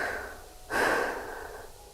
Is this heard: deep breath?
yes